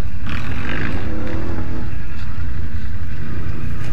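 A loud ATV engine with an open exhaust revs on a dusty forest trail, its rough, saturated roar close to the mic and filling the clip, with wind buffeting underneath.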